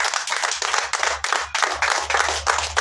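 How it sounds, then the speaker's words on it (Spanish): A congregation applauds during a Catholic Mass with a diaconal ordination for the Virgin of Guadalupe feast in December 2023, producing steady, fairly loud clapping from many hands in a church that continues throughout without pause. "Demos un fuerte aplauso al nuevo día."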